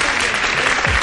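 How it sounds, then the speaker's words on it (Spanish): Studio audience on the Spanish music show Musika1 breaks into applause, a dense, loud, continuous burst of clapping that stays steady for about a second. "pido por favor un aplauso muy gordo para la excepción"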